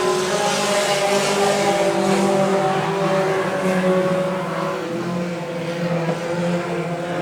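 Junior sedan cars race past on a track during a heat, a steady loud blended engine drone from several cars at mid distance, continuous throughout.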